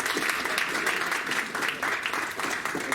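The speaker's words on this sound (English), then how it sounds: "get the clapping out of the way early." Dense audience applause greets a keynote speaker at an education symposium, steady, loud and close-sounding clapping that fills the whole three seconds without a break.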